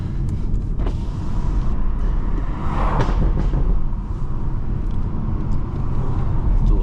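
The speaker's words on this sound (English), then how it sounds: "Oh, the car sounds good, though." A BMW 440i engine hums steadily at close range, a continuous low rumble with road noise and no talking.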